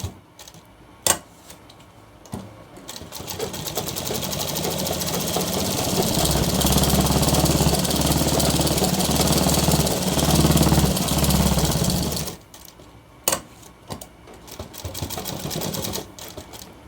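A sewing machine stitches along the neckband of a shirt collar in one sustained whirring run of several seconds, framed by a few sharp clicks and handling noises before and after.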